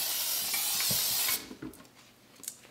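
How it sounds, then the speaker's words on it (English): Baker's Joy baking spray blasts into a pan for a steady, close hiss of about a second and a half, then stops, followed by a few soft clicks and taps from the can and pan. "You spray this with Baker's Joy"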